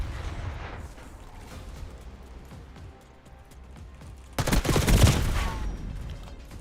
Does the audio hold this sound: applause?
no